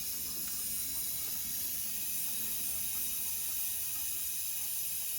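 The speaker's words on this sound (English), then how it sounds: "You hear the water filling in." Water running and filling through a newly replaced outdoor spigot, a steady broadband hiss with a low rushing rumble underneath, continuous and fairly close for the whole stretch.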